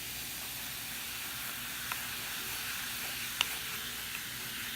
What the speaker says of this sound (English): So we have our baking soda and vinegar that we mix together.